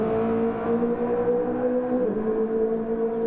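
Race cars in the Grand Prix Legends racing game, a steady droning engine tone that holds with a slight pitch dip as a car passes, no talk.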